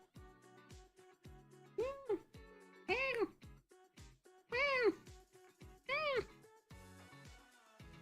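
A small cat meows several times, and a human voice imitates the meows in reply, with the calls trading back and forth and brief talk between them.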